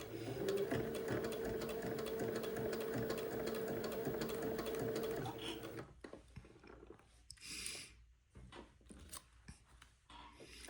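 A sewing machine runs steadily while stitching the seams of an Eton suit, a fast, even mechanical whir that stops about halfway through, followed by quieter handling noises and fabric rustles.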